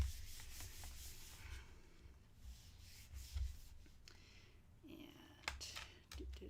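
A hand smooths paper down onto a card with soft, close, intermittent rubbing and brushing strokes, quiet and uneven, with no talking.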